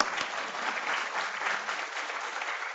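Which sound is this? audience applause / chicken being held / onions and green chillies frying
audience applause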